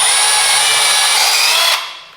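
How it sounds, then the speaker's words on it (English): A 20mm Starrett hole cutter bores through timber, a loud, steady, high-pitched whine grinding continuously before cutting off abruptly and fading away near the end. "I'll drill this hole right on that mark that we made."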